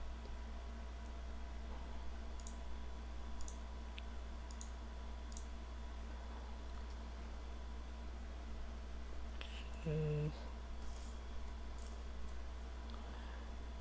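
A few quiet, sharp clicks of keyboard shortcut key presses and mouse clicks while drawing with the pen tool in Adobe Illustrator, scattered over a steady low hum, with one brief louder burst near the end.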